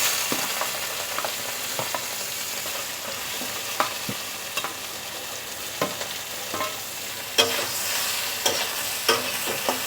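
Fried potato and bitter gourd pieces for a Bengali chachchari, tossed in hot oil with a black cumin tempering, crackle and sizzle under repeated scraping stirs, loud and close, with no one speaking.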